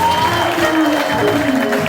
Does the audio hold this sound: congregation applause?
yes